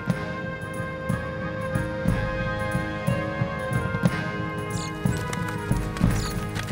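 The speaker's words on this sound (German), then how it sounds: "Bullige Pferde schleppten das Salz über die Pässe der hohen Tauern." Sturdy pack horses haul salt over the high passes of the Hohe Tauern, their hooves clip-clopping in a steady, even rhythm at moderate distance throughout.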